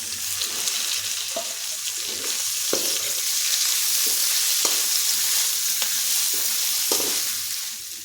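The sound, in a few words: frying vegetables with chopped chili for chowmein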